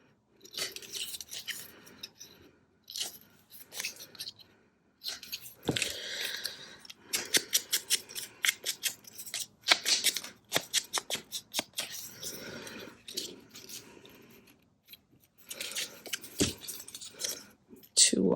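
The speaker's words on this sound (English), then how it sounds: "Let's cut these little bits off here." Scissors snip small bits of paper for a William Morris themed journal, a series of quick close crisp cuts in bursts with pauses, with faint rustling between and no talk.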